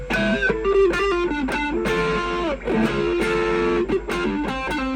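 Distorted electric guitar, a Telecaster-style build, playing chords and bright picked notes, loud and continuous with brief pauses between phrases.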